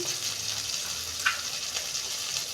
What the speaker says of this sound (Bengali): বাটি দিয়ে জল দিচ্ছি